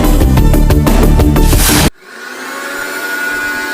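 A kitchen mixer grinder whirs loudly and harshly in the early morning for about two seconds, then cuts off abruptly, leaving a faint fading hum.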